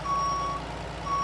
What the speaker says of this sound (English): Sounds like a truck backing up.